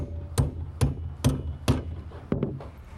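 Nails hammered into roof sheathing over solid studs while fitting a Miller RoofStrider: five sharp, close hammer blows at a steady pace, then a quick double strike, with no voices.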